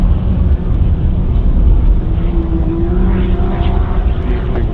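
A Holden Colorado 6-litre V8 rally vehicle pulling away from the start line at the CanAm Loveday 400 rally, a loud, steady engine roar with rising tone as it accelerates, heard with no talk.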